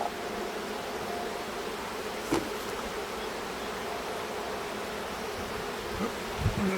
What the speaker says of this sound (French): j'aime pas trop le bruit que fait cette ruche, on dirait que ça bondit comme si elle était orpheline